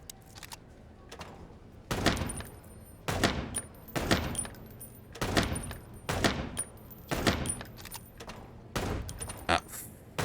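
Gunshots in the video game Chicken Police, a steady series of sharp single shots about one per second, each followed by a short ringing tail, fairly loud against a quiet backdrop.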